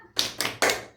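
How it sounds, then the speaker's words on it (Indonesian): Children in a classroom do a rhythmic group clapping chant, with three sharp bursts of claps and slaps spaced evenly, close and fairly loud. "Ayo tepuk semangat."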